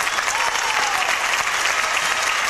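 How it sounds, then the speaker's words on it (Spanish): A dense, steady wash of audience applause fills a stage during a town's patron saint festival celebration, loud and continuous with crowd noise and no break throughout. "¡Aplausos para todos ellos!"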